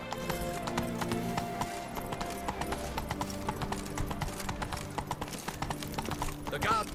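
Roach, the horse from The Witcher 3, trots with a steady clip-clop of hooves under game music and a voice, with a brief whinny near the end.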